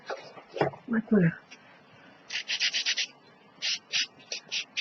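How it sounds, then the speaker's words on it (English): Brief talk, then quick rhythmic scrubbing strokes of a small manicure-style sanding block rasping across an accordion surface in two close, steady runs. "I use those little tiny sanding blocks"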